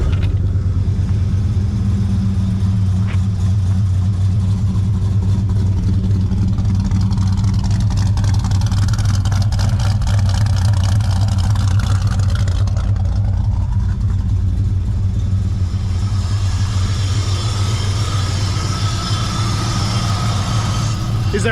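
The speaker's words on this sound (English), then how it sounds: "Is there a better sounding engine than that?" A VP SS with a cammed V8 engine idles with a loud, lumpy, uneven burble close by, then revs up and settles back, the rough throb holding steady throughout with no talking.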